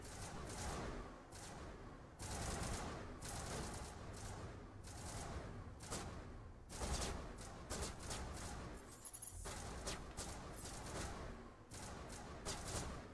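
Gunfire in the Mass Effect video game comes as dense, repeated bursts of shots and impacts through the whole stretch, fairly quiet overall with no talking.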